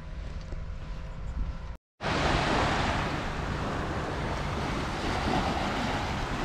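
Waves rolling onto a Lake Michigan beach at Indiana Dunes, a loud, steady roar of surf mixed with wind buffeting the microphone, broken by a brief dropout near the start.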